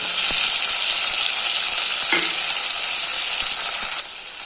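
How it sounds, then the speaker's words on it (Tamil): Tomatoes and onions sauté in a pan for a lentil-ball curry, giving a steady, close sizzle with the occasional clack of a stirring spoon. "தக்காளி நல்லா வதங்கி வெந்துகிட்டு இருக்கு"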